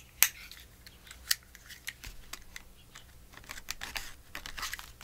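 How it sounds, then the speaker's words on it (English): A razor blade knife cutting through tape on a package: two sharp close snicks early, then a run of quiet scraping and crinkling as the tape and paper are worked, no talk. "She says as she breaks out the razor blade knife."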